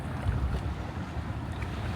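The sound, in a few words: wind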